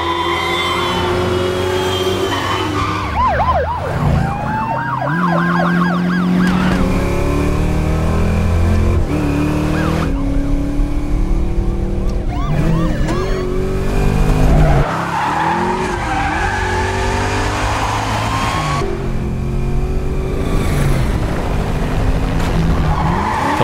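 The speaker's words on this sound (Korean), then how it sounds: "그렇게 시작되는 에머슨과 리처 그리고 적들의 추격전" Movie car chase with screeching tire skids and roaring, revving engines, loud and continuous, layered with a swelling film score throughout and no talking.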